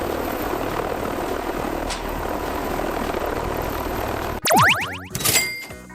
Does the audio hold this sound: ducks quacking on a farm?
no